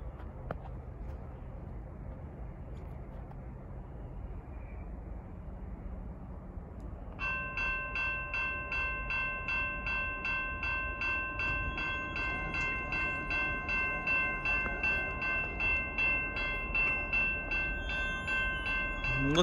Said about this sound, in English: Right now we have a northbound freight coming on the Canadian National Waukesha subdivision here in Allenton.